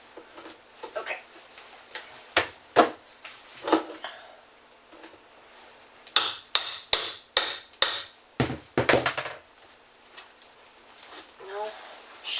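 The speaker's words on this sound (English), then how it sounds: "I'm using my little crowbar to come in behind" Small crowbar prying up old kitchen floor boards and nails: sharp, irregular knocks and cracks, some in quick clusters, close and fairly loud, with a few soft creaks between.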